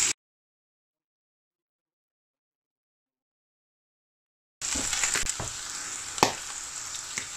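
Chopped onions for a British Indian restaurant-style chana masala start sizzling in a pan after a long stretch of silence, a steady close-up frying hiss with a few sharper crackles over the final three seconds.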